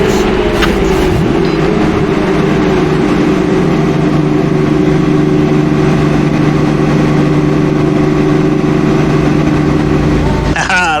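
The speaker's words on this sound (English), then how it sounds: "Drivers, start your engines." Several IndyCar engines start and settle into a steady, loud idle in the iRacing video game at the Honda Indy Grand Prix of Alabama, a constant multi-engine drone.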